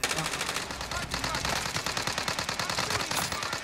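Rapid automatic gunfire rattles on without stopping in Call of Duty Cold War Warzone, a dense, fairly loud volley of shots.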